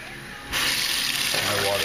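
Water gushes from a kitchen filter system tap, starting abruptly partway in and running as a loud, steady close-up stream into a bowl, with its tone shifting slightly as the bowl fills.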